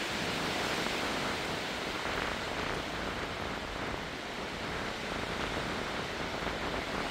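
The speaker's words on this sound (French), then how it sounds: "Voilà ce bruit de vent là-bas derrière." Storm Herminia wind blowing outside, a steady broadband rushing roar like gusting air, continuous and fairly faint with no talk over it.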